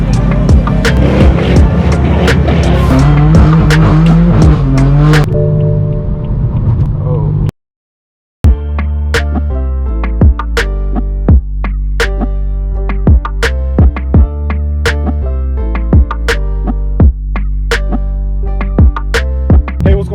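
A straight-piped BMW M4 F82 drives at night through Los Angeles, its loud exhaust droning through acceleration with a brief silence at a shift, then burbling with sharp pops and crackles.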